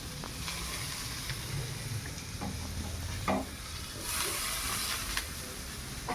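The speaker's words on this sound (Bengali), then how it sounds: "এই যে এখন পেঁয়াজ আর রসুনটা ভাজা হয়ে গেছে" Onion and garlic frying in a pan for ghugni, a steady soft sizzle with occasional stirring scrapes and a brief hissy swell, close but fairly quiet, with no talking.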